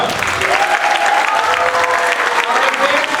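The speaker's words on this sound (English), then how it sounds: "Round of applause for our beginner orchestra." Audience applause at an elementary school spring concert for the beginner orchestra, steady clapping from a crowd that fills the room, with a voice speaking over it.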